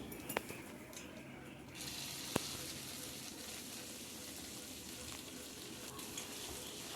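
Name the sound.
garlic, cumin and curry leaves frying in oil for tempering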